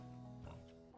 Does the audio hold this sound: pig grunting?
yes